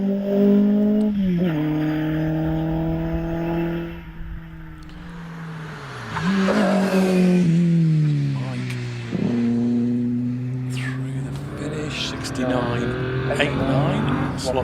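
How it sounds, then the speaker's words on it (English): A TVR Vixen sports car at a hillclimb, its engine rising and falling through gear changes as it drives into a bend, heard under continuous commentary. "Coming into Farmhouse at the moment, Mike Brown in the TVR Vixen."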